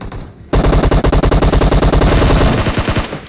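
Automatic gunfire bursts out in PUBG Mobile, a loud rapid volley of roughly twenty close shots in steady rhythm lasting about two seconds after a short quiet lead-in.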